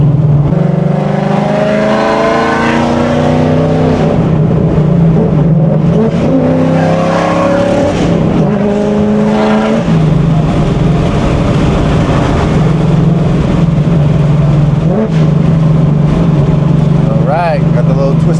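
A straight-piped Mustang is driven hard with its clutch going bad, its loud raw exhaust revving up and dropping back through the gears in repeated rising pulls, heard close from inside the car.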